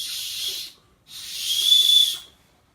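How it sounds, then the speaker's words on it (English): A small whistle built into a clip sounds two high, thin blasts, a short one and then a longer, louder one, with a brief silence between them. "built into it, in the thing, is a small whistle."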